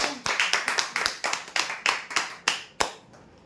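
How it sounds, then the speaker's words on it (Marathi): A small group applauds a lottery draw winner with a quick, steady run of about a dozen sharp, close claps that taper off into quiet at the end. "जोरदार टाळ्या"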